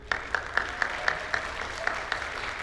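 Sparse applause from a community band concert audience, a few distinct claps spaced at a slow, fairly regular rhythm over a quiet room hum.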